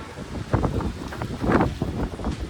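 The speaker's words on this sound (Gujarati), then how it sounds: "ઓચિતાનનું વાવાઝોડું આવવા માંડ્યું જોવો." Gusty windstorm wind in Ahmedabad roars and rumbles against the microphone in irregular bursts, rising and falling throughout.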